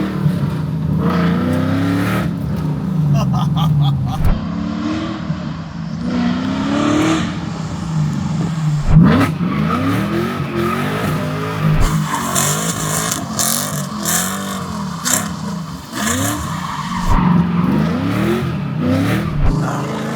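A Camaro SS V8 with a manual transmission revs and accelerates close by, rising and falling engine sweeps with several sharp bursts and gear changes spread over twenty seconds, loud with no talking.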